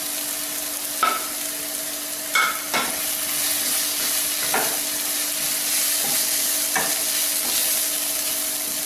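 Onions with mango powder, chilli powder, coriander powder and fennel sizzle steadily in a pan, with occasional sharp stirring scrapes over the constant frying hiss.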